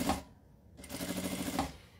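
A sewing machine stitches a small clutch bag, running in short bursts with a brief pause before a longer steady run of rapid mechanical ticking, close by and fairly quiet.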